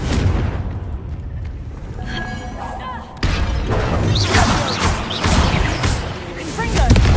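A Confringo blasting spell hits in Hogwarts Legacy with a sharp crashing burst and a shattering impact. Busy game sound follows as a heavy explosive layer that rolls on through the rest of the clip, with voices mixed in.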